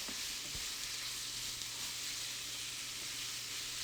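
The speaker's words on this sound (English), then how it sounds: "Give it a good stir so that garlic gets all over it." Shrimp sizzling in garlic butter in a pan, a steady even hiss of frying with a brief stirring scrape near the start.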